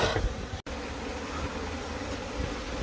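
A swarm of honey bees hums around a broken, cooled nest, a dense continuous buzz close up that runs throughout with one momentary cut.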